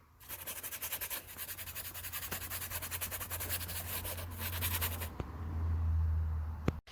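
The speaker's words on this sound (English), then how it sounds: "Now I'm just rubbing it in with my finger" A fingertip rubs colour into an art journal page to blend it, a close, soft, rhythmic scratchy rubbing that continues in quick strokes and then stops.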